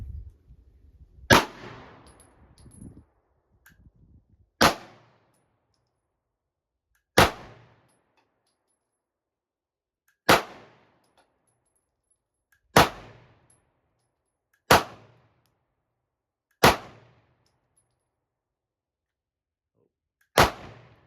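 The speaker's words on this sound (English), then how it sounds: "I haven't live fired it yet, so let's go ahead and shoot" A Smith and Wesson SD9 2.0 compact handgun fires eight sharp single shots at a range, spaced roughly two to three seconds apart, each loud and crisp with a brief ringing tail.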